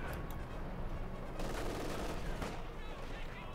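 Tank cannon and infantry gunfire rumble through a Company of Heroes 2 battle, a dense continuous barrage of overlapping shots and blasts with a louder burst midway.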